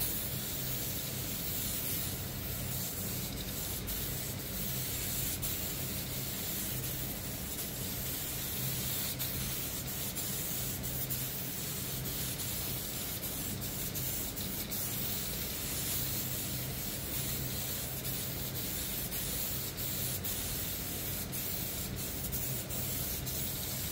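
Spray can hissing clear satin coat onto a motorcycle CVT cover, a loud, close, continuous aerosol spray held steadily the whole time, with no pauses or talking.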